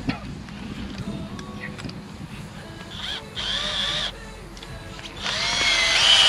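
A power drill drives a ground-dog anchor into the ground outdoors, with short whirring bursts of moderate loudness broken by pauses and some wind noise.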